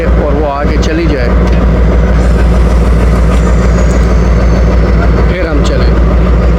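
A local shuttle train on a Pakistani railway line rumbles loudly and continuously as it comes through, with heavy low clatter, squeals and screeches from the wheels throughout.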